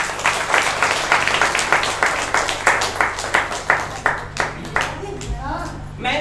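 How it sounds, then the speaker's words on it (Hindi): A church congregation claps together in steady rhythmic unison, loud and close, with a crowd murmur and a low hum under it; the clapping thins out near the end as voices take over. "ताली बजा के परमेश्वर की महिमा करें।"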